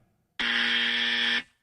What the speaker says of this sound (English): Gentlemen, ready with your buzzers?